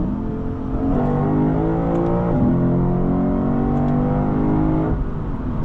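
The naturally aspirated V8 of a 2023 Lexus IS 500 F Sport revs hard from inside the cabin, a loud continuous engine roar rising and falling in pitch with no talk over it.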